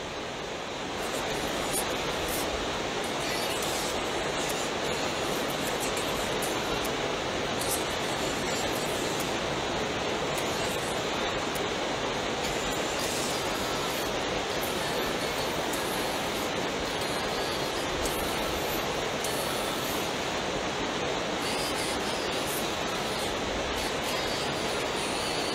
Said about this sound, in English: listen to the sounds of the water